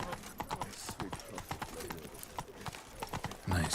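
Roach, Geralt's horse in The Witcher 3, trots with steady rhythmic hoof clip-clops on hard ground, close and clear over ambient game sound, with a brief snort or whinny near the end.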